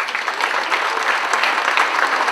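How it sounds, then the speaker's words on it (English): Audience applause rings out at an environmental awards ceremony, a short burst of dense, lively clapping from a sizable crowd with no voices over it. "Let's give another round of applause."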